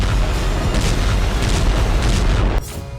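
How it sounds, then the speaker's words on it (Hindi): Heavy explosions from Russian bombing of Ukrainian cities, a loud continuous deep rumble and booming that cuts off abruptly near the end, leaving a quieter tail. "रूस ने एक साथ यूक्रेन के कई शहरों में बड़े धमाके किए हैं।"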